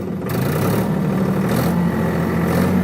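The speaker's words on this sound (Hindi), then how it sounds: "तो पहले मैं क्लच दबा के ट्रैक्टर चालू कर रहा हूँ, दोनों गियर न्यूट्रल है।" A tractor engine runs steadily at 1840 rpm with the PTO lever engaged and both gears in neutral, making a close, continuous low drone with a constant throb and no change in pitch.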